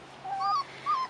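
Rottweiler puppies, 4.5 weeks old and nervous on their first time outdoors, giving two thin high whimpers close by, each rising and falling, with quiet gaps between.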